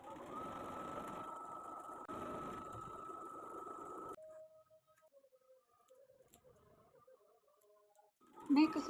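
Sewing machine stitching around the cuff of a relaxed-fit side-gather camisole blouse, running in a steady buzzing burst with a brief pause, then stopping into near quiet with faint handling noises.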